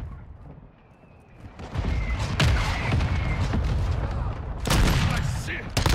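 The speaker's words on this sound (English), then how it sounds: "Mortar strike inbound now." Mortar strike explosions in Call of Duty Modern Warfare 2 multiplayer, a rumbling barrage of booms and crackling blasts that swells after a quieter start and hits again near the end, with brief game voice chatter mixed in.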